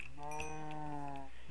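A Minecraft cow lets out a single drawn-out, low, nasal moo, close and clear, with faint in-game ambience behind it.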